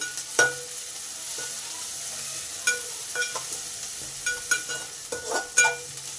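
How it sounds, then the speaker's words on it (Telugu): Mint leaves fry in a pan with a continuous soft sizzle, broken by several sharp scraping clicks of a spatula stirring against the metal. "పుదీనా వేసిన తర్వాత ఈ విధంగా ఫ్రై చేసుకుందాం"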